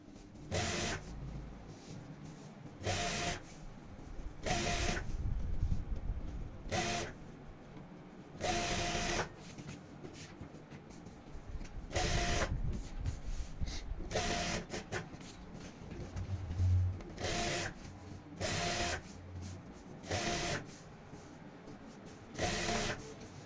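A sewing machine stitches the edges of layered cloth with a rubber sheet and lining, running in repeated bursts of rapid mechanical whirring, separated by brief pauses, close and fairly steady in level.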